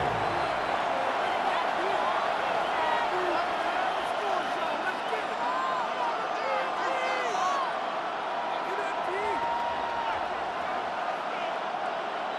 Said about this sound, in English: This crowd doing everything they can before 3rd and goal.